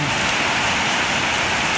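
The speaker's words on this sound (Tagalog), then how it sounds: "bad weather ngayong umaga. Malakas ang ulan." Heavy rain falls as a loud, steady, dense hiss of drops on surfaces, unbroken and close, with no voices.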